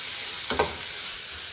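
Tomatoes and green chillies sizzle in hot oil as a spoon stirs them, a continuous close frying hiss with a short scrape of stirring partway through.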